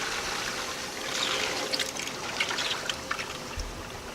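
Coolant trickles and gurgles faintly as it circulates through a BMW E90-series car engine, a steady soft bubbling flow up close with no talking.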